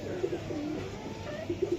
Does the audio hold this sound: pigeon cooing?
yes